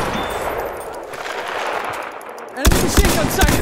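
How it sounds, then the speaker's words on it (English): Enemy machine gun fire in the Battlefield 1 Domination game mode: a steady burst of rapid shots that hits harder and louder near the end, with game noise under it. "That's an enemy machine gun!"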